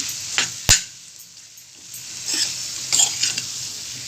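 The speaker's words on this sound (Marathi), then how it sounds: "आता ह्याला मसाला मिक्स करून घेते सगळा" A spoon stirs masala into potatoes for batata bhaji in a pan, with a few sharp clinks of metal on metal and soft scraping shuffles among quiet gaps.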